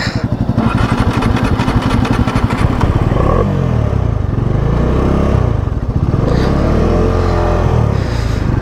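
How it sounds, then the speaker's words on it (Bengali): A Himalayan motorcycle ridden close by, its single-cylinder engine thumping in a fast steady rhythm at first, then droning loudly with shifting pitch as it pulls along. "এবারে আমাদের লেডি রাইডার রাইড করছে হিমালয়ান"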